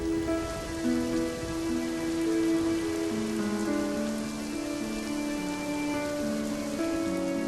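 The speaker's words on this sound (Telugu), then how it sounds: "ఓ రోజు జోరున వర్షం కురవసాగింది" Steady, heavy rain pours without a break for the whole stretch, a dense even hiss with musical tones layered over it and no voices.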